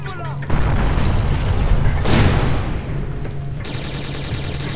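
A grenade detonates with a single loud, sharp blast in the video game Syphon Filter: Logan's Shadow, following scattered gunfire and fading into a rumbling tail.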